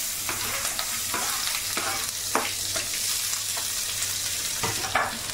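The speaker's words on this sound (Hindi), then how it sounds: "अब डाल देंगे अपने अनियन" Onions hitting hot oil in a pan while poha is being made, a steady close sizzle and fry with a few stirring scrapes and clinks, no talking.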